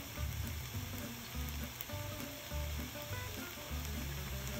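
Butter melting in a hot pan gives a steady, fairly loud sizzle and crackle, continuous and close, with no talking.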